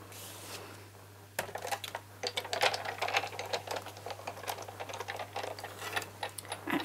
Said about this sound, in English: Now I'm going to use my Big Shot to cut this out.